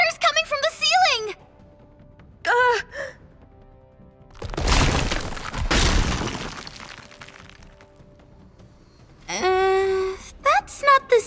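Heavy cracking and crumbling of bunker walls as the bunker floods in the Nikke x Stellar Blade video game, a loud sustained rumbling burst in the middle, with people talking briefly before and after.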